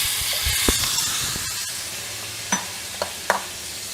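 Pumpkin pieces sizzle steadily in a hot pan while a spoon scrapes and knocks a few times against the metal as the pieces are stirred.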